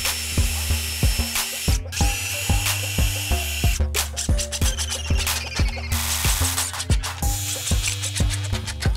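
A power drill bores pilot holes into a single wooden board for a simple birdhouse, with repeated short bursts of whirring and clicking as the bit starts and stops, loud and close, no voices.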